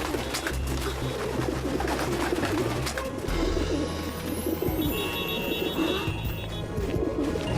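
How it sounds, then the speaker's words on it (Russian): Pigeons coo steadily throughout a cartoon scene of birds flooding Paris, a dense, close flock murmuring over low city background noise with a few brighter chirps. "Голуби заполнили Париж."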